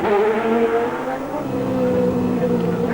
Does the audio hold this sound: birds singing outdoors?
no